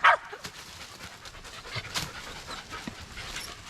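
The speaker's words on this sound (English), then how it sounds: "Look at that little dog, y'all." Small dog panting rapidly and steadily, close and fairly quiet, with soft breathy bursts and a brief louder sound at the start.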